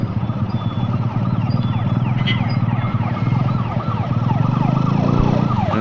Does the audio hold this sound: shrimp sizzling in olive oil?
no